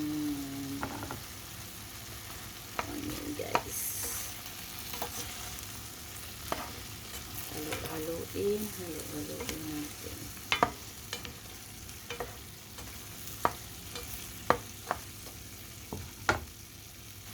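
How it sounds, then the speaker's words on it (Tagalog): Onion and beef fry in a pan with broccoli, a soft sizzle running under repeated sharp scrapes and clacks of a spoon stirring, the taps coming irregularly and louder toward the end. "Haluin natin. Ilagay ko na din ang aking onion."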